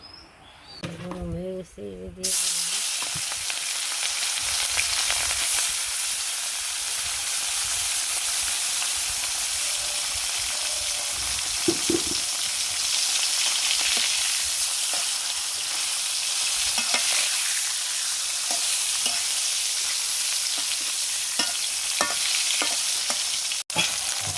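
Vegetables with fresh chillies fry and get stirred in a pan, a loud, continuous close sizzle that starts abruptly after a brief quieter opening, with occasional utensil scrapes.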